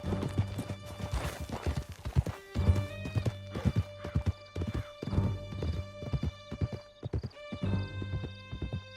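Horse hooves gallop at a quick, steady rhythm over ground in the Red Dead Redemption 2 video game, with an occasional whinny and a soft, sustained musical tone underneath.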